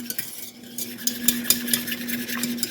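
A utensil scrapes and taps against a pan while Harvard beets are stirred on the stove, with a steady hum beneath the irregular clinks and no talking.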